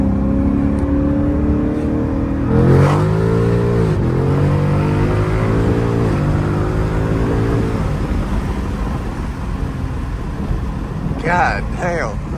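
A 2019 Ford Mustang GT with the 5.0 V8 accelerates hard on a backroad, its engine note climbing through the gears in steady rising sweeps. The drone stays loud and close for the whole stretch, and a brief voice comes in near the end.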